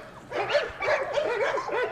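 An American Bully dog gives four or five short, yelping barks in quick succession, close by and moderately loud, with no talking.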